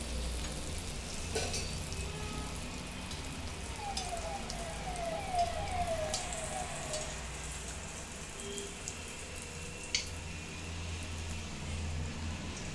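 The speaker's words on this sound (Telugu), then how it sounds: "ఆయిల్ హీట్ అయిందండి. ఇప్పుడు బూరె పోసేసుకుందాము." Semolina and jaggery boorelu batter sizzles and crackles steadily in hot oil, a dense, close frying hiss that holds throughout with no one talking.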